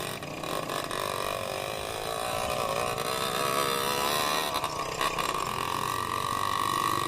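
A Yamaha Aerox scooter engine labours with a strained, buzzing drone that rises slightly in pitch, heard close and continuous.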